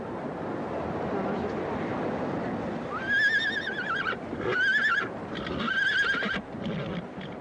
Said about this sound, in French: sur ce joli hennissement